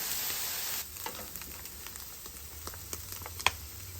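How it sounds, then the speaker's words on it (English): Potatoes frying on the griddle insert of a Weber gas grill, a steady close sizzle with scattered light pops and occasional stirring clicks, with no talking. "With these potatoes, I'm actually just going to stir them around, get them coated, and then leave them alone."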